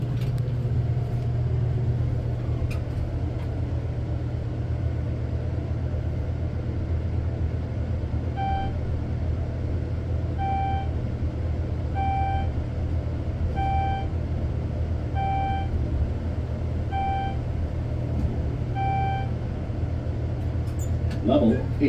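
Schindler 6400 elevator in a long-term airport parking garage moving upward: a steady low motor hum runs throughout, with a regular series of evenly spaced electronic beeps or chimes marking the passing floors.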